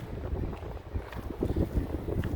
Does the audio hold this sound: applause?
no